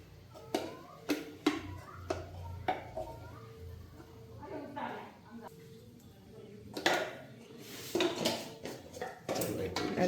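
Turmeric and fenugreek powder are stirred in a pan for Kerala-style mango pickle, with irregular metallic clanks and scrapes of a spoon against the pan, mixed with some talking.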